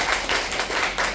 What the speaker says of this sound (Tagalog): Yan lang may palakpak nyo?